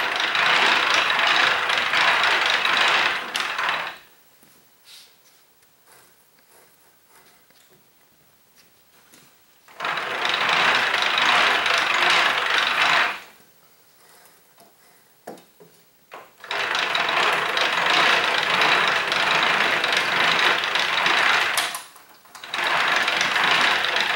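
A copper penny rope making machine runs in three loud sustained bursts of steady mechanical whirring, separated by quiet pauses with faint handling clicks.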